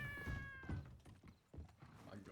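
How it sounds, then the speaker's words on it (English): A cat meows twice close by, short tonal cries, followed by thumps and bumps and some talking. "That was a cat."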